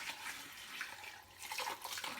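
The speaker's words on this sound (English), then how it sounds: "I'm going to wash this rice in the pitcher" Rice is rinsed by hand with water in a pitcher, a faint, continuous sloshing and swishing of water with soft splashes.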